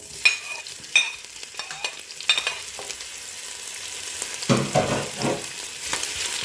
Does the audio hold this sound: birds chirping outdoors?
no